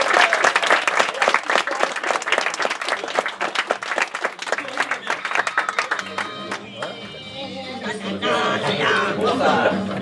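An audience at an improv comedy cabaret in Paris breaks into loud, dense applause that rolls for several seconds, then thins into a livelier crowd mix with chatter toward the end.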